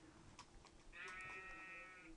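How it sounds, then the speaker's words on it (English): A single quiet sheep bleat from Minecraft, a drawn-out wavering baa lasting about a second, set against faint game background noise. "Oh, you're a sheepy. You're a sheep."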